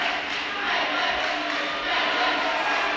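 Home crowd from Quebec roaring for karate fighter Rivet at the 2018 Karate Nationals, a steady, dense wash of cheering that swells slightly across the moment, with a commentator's voice over it.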